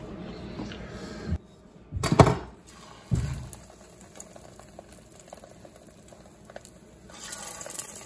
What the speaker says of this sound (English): we're going to fry some eggplants now